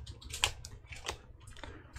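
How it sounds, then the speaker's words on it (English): Sparse, quiet clicks of keys being tapped on a computer keyboard, a handful of light, separate presses spread across a couple of seconds over a faint background hum. "So now he's typing on things."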